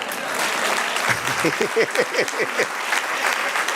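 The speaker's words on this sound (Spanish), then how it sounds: "Dale un aplauso al Señor." A church congregation bursts into applause, scattered claps swelling into a dense round of clapping heard up close, with faint voices mixed in.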